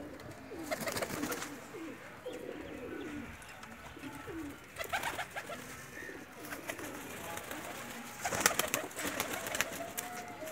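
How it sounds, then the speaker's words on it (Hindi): Breeder pigeons in Pakistan coo repeatedly in soft, throaty, rolling bursts, several birds close by, with a faint murmur of background noise between calls. "ये बटेरा कबूतर है जी।"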